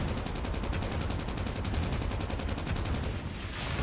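A ray gun fires in rapid repeated bursts at a boss in Call of Duty: Mobile, a dense, loud stream of game weapon shots lasting several seconds under busy game audio.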